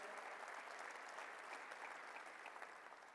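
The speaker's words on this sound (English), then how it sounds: "Let's give him a round of applause." An audience at a ceremony applauds for Mayor Spano, a dense, even round of clapping that holds steady and eases slightly toward the end, with no voices over it.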